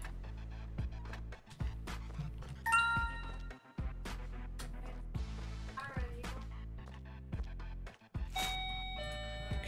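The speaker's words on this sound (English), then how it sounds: "Ding dong, ding dong." Doorbell chime in the Train Station Renovation video game rings out twice over steady game music and thuds, bright ringing tones standing clearly above the mix.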